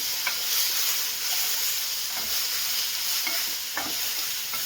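Green chillies and spices fry in a pan for palak pepper chicken with a soft, steady sizzle. Light, irregular clicks and scrapes of stirring come through it, and no voices are heard.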